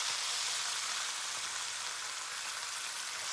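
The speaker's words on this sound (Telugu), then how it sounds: "సో, ఇప్పుడైతే మనం కర్రీ పీసెస్ ఏవైతే ఉన్నాయో అవి ఫ్రై చేసుకుందాం." Pieces of fish for a West Bengal style poppy-seed curry frying in hot oil, producing a continuous, bright, crackling sizzle that stays even and close throughout with no talking.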